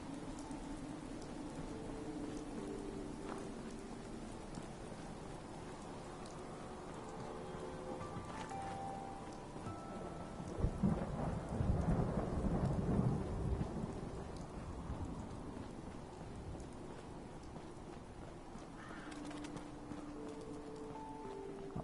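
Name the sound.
rain and thunderstorm in video game Fallout 4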